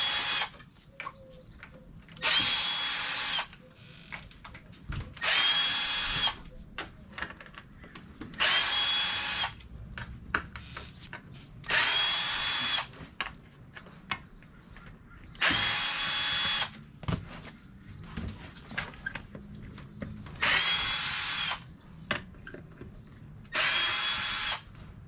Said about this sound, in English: It kind of helps if you have a drill, power drill.